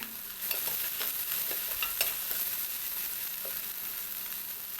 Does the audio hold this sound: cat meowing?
no